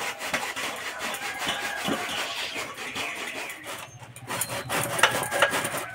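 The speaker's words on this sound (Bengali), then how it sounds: "একটা ফুটো থালা নিয়েছি, বা ফুলকপিটা কুঁড়ে নেব।" Cauliflower is rubbed against a plate with holes, making a rough, scratchy grating of repeated strokes, close and fairly steady with brief pauses and no talk.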